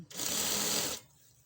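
A sewing machine stitches elastic into a trouser waistband in one short steady run of about a second, a close buzzing whir that stops abruptly into quiet.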